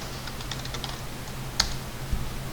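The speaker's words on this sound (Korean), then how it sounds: "먼저 A 엔터 치시고 그 다음에 C 엔터 쳐요." A computer keyboard is used to enter commands in CAD software, with soft, quick key taps and one sharper, louder keystroke partway through, over a faint steady hum.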